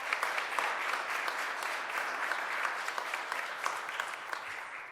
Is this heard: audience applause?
yes